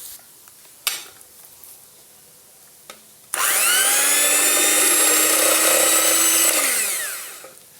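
A hand blender whirring through milk cream and sugar for a pudding, starting with a few clicks and knocks before a loud, steady high-pitched motor whine that holds for several seconds and then winds down.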